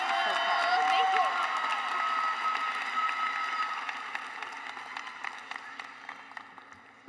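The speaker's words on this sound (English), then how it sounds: "Let's give her another round of applause." A graduation crowd at Riverwood claps and cheers for the principal, with whoops and shouts over the applause, which stays full for a few seconds and then gradually fades.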